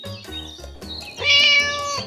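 A cat meows alone at close range, several short tonal calls and then a louder, drawn-out meow.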